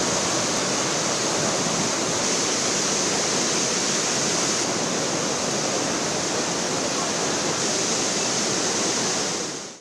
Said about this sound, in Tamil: அருவிகளில் காட்டாற்று வெள்ளம் போல் தண்ணீர் ஆர்ப்பரித்து கொட்டுகிறது